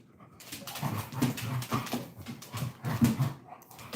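Dogs whimpering indoors: repeated whines and soft yelps, fairly close and moderately loud, in uneven bursts, with no talk.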